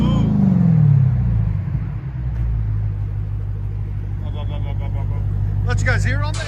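840hp Dodge Demon V8 running with a Kooks exhaust, a deep, steady, loud idle rumble close by with a brief swell near the start, and faint voices in the background toward the end.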